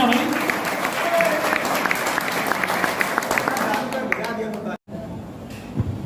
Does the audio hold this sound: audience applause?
yes